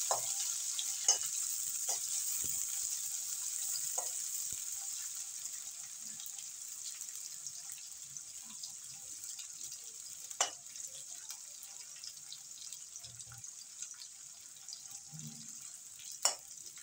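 Chopped onions frying in white oil in a wok, a faint, steady hiss of sizzling with occasional scattered pops and light clinks throughout.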